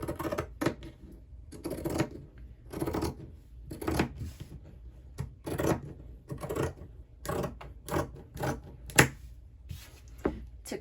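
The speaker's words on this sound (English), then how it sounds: "we can go ahead and use our pinking shears." Pinking shears cut along a fabric pillow seam in a series of quiet, close crunching snips with short pauses between them.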